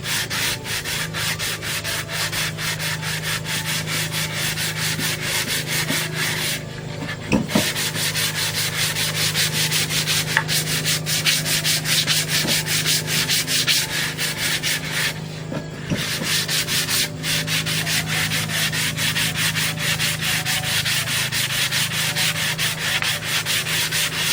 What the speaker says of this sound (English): So I'm at 150 grit here right now, doing the edge